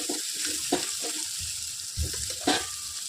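Chopped ridge gourd sizzles and fries steadily in a pan, with a few scraping stirs and clanks of a spoon against the metal over the hiss.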